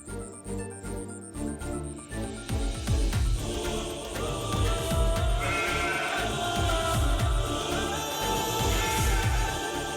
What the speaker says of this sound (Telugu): అది మేక శబ్దంలా ఉంది.